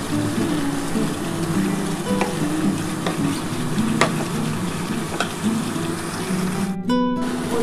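Chicken pieces fry and sizzle in oil in a pan while being stirred, a steady close crackle with occasional scraping clicks of the utensil.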